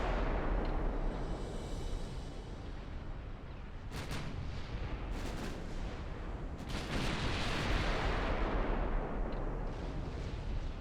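Warship guns fire in the naval battle game Ultimate Admiral: Dreadnoughts, a dense, continuous rumble of distant booming salvos and blasts with a few sharper close reports, heard without talk.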